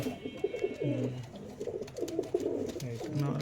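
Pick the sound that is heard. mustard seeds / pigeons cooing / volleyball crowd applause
pigeons cooing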